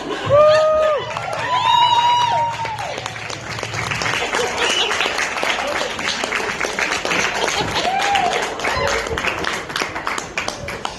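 A comedy club audience applauds at the close of a stand-up set, with sustained clapping and a few whoops and shouts early on. A voice carries over the crowd noise at the start.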